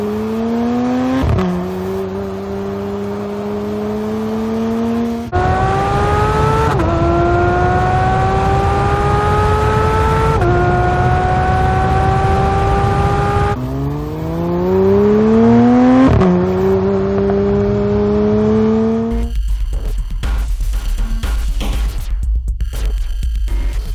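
A Porsche 911 GT3's 4.0-litre naturally aspirated engine revs hard toward 9000 rpm through several rising gear pulls, its loud exhaust climbing in pitch again and again before cutting off abruptly near the end.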